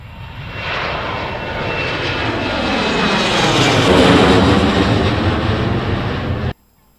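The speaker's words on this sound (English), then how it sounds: "I'll see if I can get a shot of an aeroplane taking off" An aeroplane takes off nearby with a loud, broad engine roar that builds steadily, peaks midway and then cuts off abruptly near the end. No one speaks.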